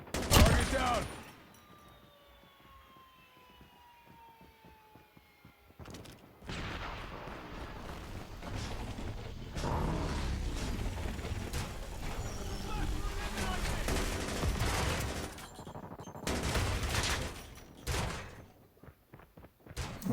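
Automatic weapon fire from a Chopper light machine gun in the mobile shooter game Call of Duty Mobile, dense bursty gunfire and explosions running through most of the span, with someone speaking over parts of it.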